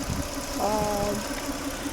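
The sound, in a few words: Peugeot 406 V6 engine running at idle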